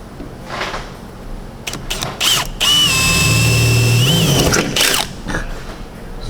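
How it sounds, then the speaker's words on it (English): A power drill bores holes in the corners of a stripped-down vehicle frame. It runs in short bursts and then one long whining spell in the middle, loud and close, with clanks and handling noise in between. "I'm gonna start with drilling a hole in each corner, just to have nice rounded corners"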